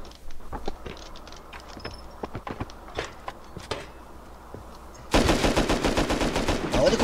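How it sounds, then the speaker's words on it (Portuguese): Gunfire in the survival game Rust. Scattered light steps and clicks come first, then a sudden dense burst of rapid, loud automatic shots runs to the end. "O cara tá atirando"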